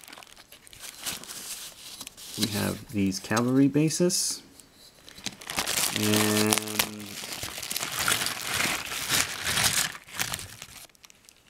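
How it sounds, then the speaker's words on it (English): Padded plastic bag crinkling and rustling as it is handled, a steady crackly texture running most of the way, with a person talking in two stretches over it. "We have a padded plastic bag."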